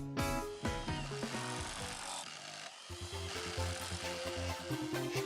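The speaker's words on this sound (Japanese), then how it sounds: "150パイのドリルで掘削作業をします。" A DH45SA electric hammer drill turns a 150mm hex-shaft earth auger into soil mixed with small pebbles, giving a loud, steady motor drone with grinding, rattling hammer action that dips briefly before resuming.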